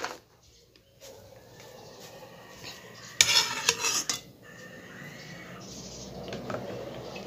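Ice candy mixture stirred in a container, with soft swishing and scraping strokes, a brief louder burst of clattering midway, then continued gentle stirring, close and without talk.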